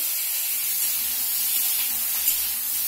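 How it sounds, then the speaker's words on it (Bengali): Potatoes frying in a pan give a steady, close hiss that holds evenly throughout, with no talking. "আলু দিয়ে আলুটাকে আগে ভেজে নিচ্ছি"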